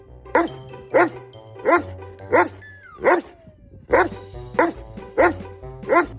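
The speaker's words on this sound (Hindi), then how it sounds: "उसने उस कुत्ते पर भौंकना शुरू कर दिया" A dog barks about nine times in a steady, evenly spaced rhythm, loud and close, with a brief sliding tone partway through.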